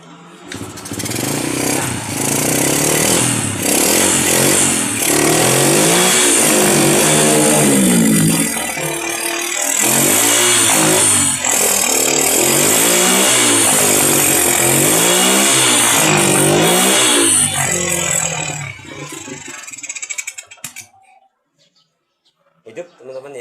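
A Honda F100 motorcycle engine with a carburetor fault, running and revving in uneven waves, loud and close, then cutting off abruptly near the end, with someone talking over it.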